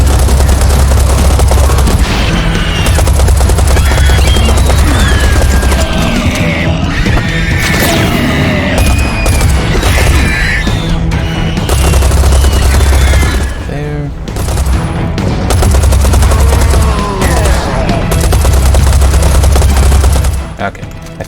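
Assault rifle fire in Serious Sam 4, a loud, dense stream of rapid shots running nearly nonstop, with repeated bursts and booms layered over game music and clamor.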